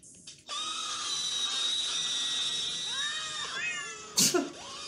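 Several cats meow in a series of drawn-out, rising and falling cries over a steady high whine, ending with a sharper, louder yowl near the close.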